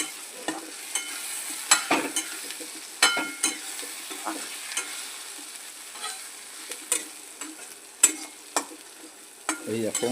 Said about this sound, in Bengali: দেখুন, এখন ডিমের মশলা কষা হচ্ছে।